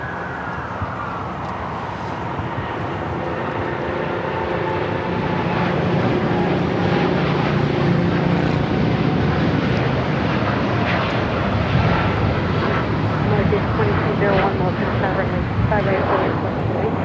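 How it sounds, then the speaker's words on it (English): A KLM Boeing 787-10 Dreamliner takes off at LAX, its jet engines swelling into a loud, sustained roar that holds steady as the aircraft climbs, with talk faintly underneath at times. "KLM Flight 602 taking off to Amsterdam on a 787-10 Dreamliner"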